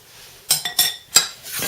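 Cabbage added from a pan with utensils, a few sharp metallic clinks and scrapes in quick succession, close and fairly loud against a quiet background.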